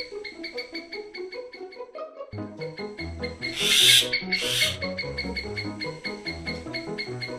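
Myna birds in Sri Lanka call in rich, harmonic chattering notes, rapid and overlapping, with a brief harsh rushing burst partway through.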